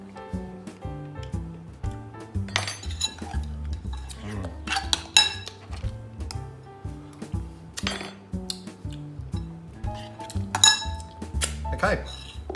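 A spoon clinks and scrapes against a bowl while a simple sauce seasoned with black pepper and salt is stirred together, in repeated light metallic taps and rattles over about twelve seconds.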